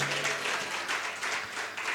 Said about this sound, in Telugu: చప్పట్లు కూడా దేవునికి స్తోత్రం.